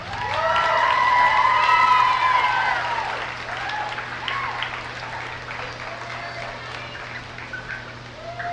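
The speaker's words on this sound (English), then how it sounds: "Give a big round of applause for Natalie Allison" Crowd applause and cheering at a county fair queen crowning, loud at the start with whoops and shouts over sustained clapping, then easing into lighter scattered clapping and crowd noise.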